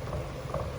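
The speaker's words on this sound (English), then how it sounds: "we are frying until the oil will come out" Oil sizzles in a pan while frying ingredients for vegetarian laksa, a continuous bubbling hiss that holds steady and close without a break.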